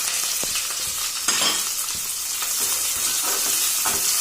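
Chopped onions and green chillies frying in hot oil with cloves and cinnamon for mutton khurma, a steady close crackling sizzle with small pops throughout, no talk.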